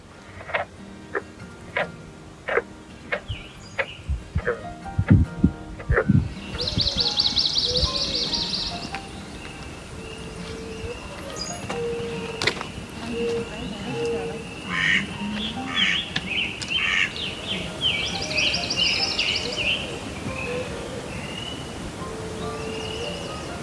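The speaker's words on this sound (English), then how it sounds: "you'll hear lots of bird life here" An outdoor wetland chorus of chirping birds and occasional duck quacks, with bursts of nearby tapping at first, then a steady ambient bird bed.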